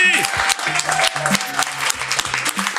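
Podcast audience applauding the guests in a studio, a steady wash of clapping running the whole time with voices talking over it.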